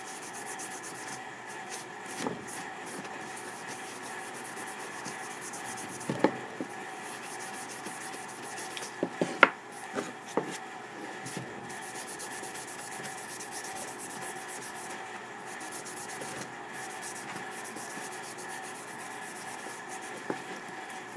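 A cloth is rubbed over a wood sample to spread coloured wood stain. The result is a soft, steady, quiet scrubbing that keeps up throughout, with a few faint knocks and no talking.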